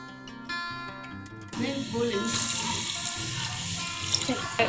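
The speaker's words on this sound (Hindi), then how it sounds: "अब हम इसमें पानी डाल देंगे।" Water pours steadily into a pot of fried masala for chana dal gosht, two glassfuls, with a continuous splashing rush, close and fairly loud, starting abruptly after a quieter opening.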